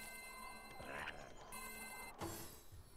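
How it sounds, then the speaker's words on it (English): Bells ringing in the video game Divinity: Original Sin Enhanced Edition during a battle, a faint bright repeated trilling chime that sounds in bursts with short gaps between them. "Who's ringing bells?"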